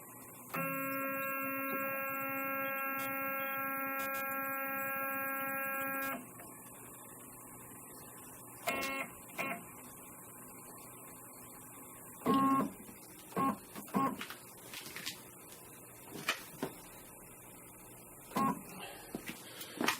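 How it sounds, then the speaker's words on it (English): A CNC router moves its bit down toward the zero point: a steady electronic stepper whine holds for about six seconds, followed by scattered short motor bursts and clicks, close and moderately loud with no talking. "So I'm going to use the computer to move the router down toward the point I want."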